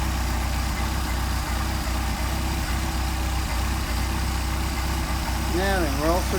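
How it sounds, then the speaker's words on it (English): A Mercedes 190SL engine with a Solex carburetor idles at a steady 800 RPM, a constant low rumble throughout; a faint warbling tone rises near the end. "Back at our 800 RPM"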